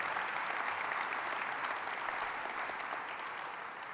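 Steady, dense applause from a large conference audience at an opening plenary session, a continuous wash of clapping that fades slightly toward the end, with no voices over it.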